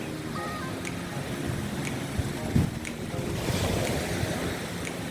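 Waves wash onto the beach shore at Mamangal Beach Resort in Catanduanes, a soft continuous surf hiss with wind noise and faint swells, fairly quiet and steady throughout.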